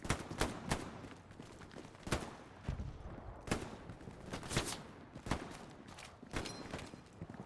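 Video game gunfire rattles along quietly in the background, with a steady series of sharp, evenly spaced shots and short bursts spread across the whole stretch.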